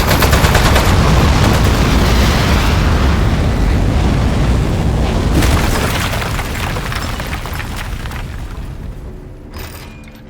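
Turret gunfire in the video game Aperture Desk Job, a loud dense stream of rapid shots and booming impacts that rolls on continuously and gradually fades toward the end.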